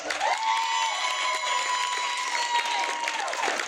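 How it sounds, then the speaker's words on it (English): An audience claps for panelists at a convention closing ceremony, a full, even burst of applause with some cheering, held steady for a few seconds while a tone sustains underneath. "everybody give them a round of applause"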